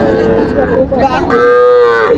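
A loud, close bull calf moo at a cattle market, drawn out and wavering, then a second call, with a faint murmur of people in the background.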